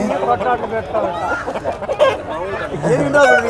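A restless rooster at the Galiveedu poultry market clucks in short, agitated bursts close up, mixed with people speaking over it.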